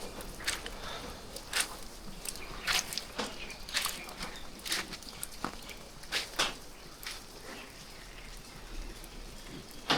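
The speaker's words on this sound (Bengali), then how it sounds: "এখনো কিন্তু বৃষ্টি চলছে" Steady rain falls during snowfall in Manali, a soft continuous patter with scattered sharper drops tapping nearby surfaces, fairly quiet throughout with no talk.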